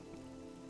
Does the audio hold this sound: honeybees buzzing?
no